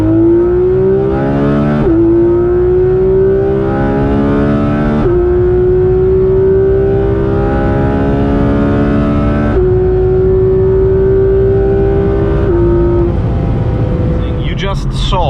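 Porsche GT3 RS 991.2 accelerating hard from 100 to 200 km/h, a loud engine note rising in pitch through repeated gear changes, each upshift dropping the tone before it climbs again, heard from inside the car.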